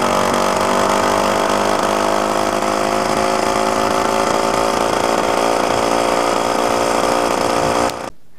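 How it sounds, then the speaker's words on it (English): A small Velo Solex moped engine with a performance aluminum piston and barrel runs at around 27 to 28 km/h with a steady buzzing drone that holds for several seconds, then cuts off abruptly near the end. "My moped is running around 27, 28 kilometers per hour"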